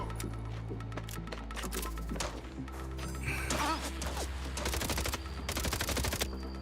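Sustained automatic gunfire from a gun in the video game Mind's Eye, loud and close, rattling steadily with sharp bursts that grow denser toward the end, with no voices over it.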